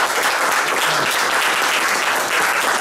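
Audience applause welcoming a pianist, steady dense clapping from a concert crowd filling the whole stretch without pause.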